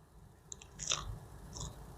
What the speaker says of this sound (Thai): แคบหมูกดกรอบแหละ